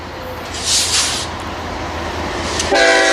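A long BNSF freight train, 117 cars bound from Los Angeles to New York, rolls past close and loud in Riverside, California, with a steady rumble, a horn blast, and a brighter tone rising near the end.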